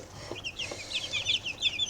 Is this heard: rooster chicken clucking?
yes